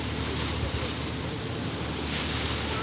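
Continuous wash of surf with waves rolling in at Sai Wan Ho swimming shed in Kennedy Town, Hong Kong, mixed with wind buffeting the microphone; no talking.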